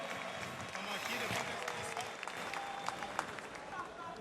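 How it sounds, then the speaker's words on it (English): Audience applauding for fighter Bruno Machado at an event in Abu Dhabi, a steady wash of clapping with crowd noise and voices mixed in throughout. "Please give Bruno Machado a big round of applause."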